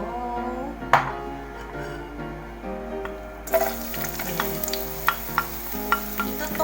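Garlic toasts in olive oil in a preheated pan for beef salpicao, a soft sizzle that swells midway as it is stirred, with occasional light clinks over a faint tonal background.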